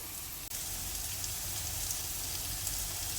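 Onions frying in a pan over a medium gas flame, a steady dense sizzle and crackle that runs unbroken with one brief dropout near the start, close and moderately loud, no voices.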